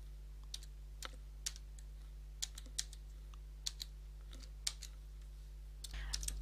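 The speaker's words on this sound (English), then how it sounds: "And now type in that same new password again." A password is typed on a computer keyboard: a run of quiet, separate key clicks at an uneven pace over a steady low electrical hum, with no one talking.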